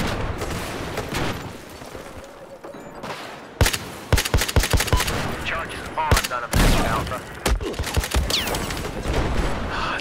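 Gunfire in Battlefield 4, a chaotic battle with repeated sharp shots, scattered bursts and a few heavier booms, loud and irregular over a constant rumbling background.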